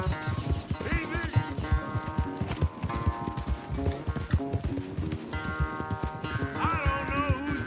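Horse galloping during a race in the video game Red Dead Redemption 2, rapid rhythmic hoofbeats pounding continuously up close, layered with orchestral game music and brief voices.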